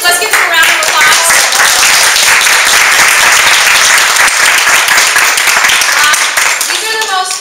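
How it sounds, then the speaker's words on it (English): Loud, sustained round of applause from an audience at a women's launch event in San Jose, with voices audible over the dense clapping near its start and end. "So everyone, let's give them a round of applause."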